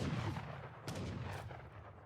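Heavy cannons firing in the Age of Empires III video game, deep rumbling battle noise with a couple of sharp booming blasts rising out of a continuous low roar.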